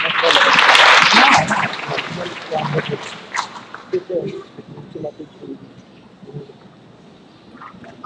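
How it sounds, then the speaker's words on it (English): Applause from an audience at a youth meeting event in Indonesia, a dense burst of clapping in the first couple of seconds that quickly thins out into scattered claps, then fades under talk and room noise. "Let's give a big applause."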